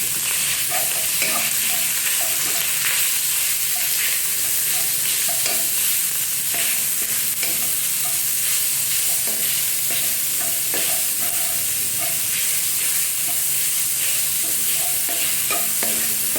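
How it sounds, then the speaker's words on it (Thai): Minced pork stir-fried in a hot pan with cooked garlic, a steady loud sizzle and frying hiss throughout, with frequent scraping and clinks of a spatula stirring the meat. "เราจะใส่หมูสับลงไปนะ แล้วก็ผัดให้สุกค่ะ"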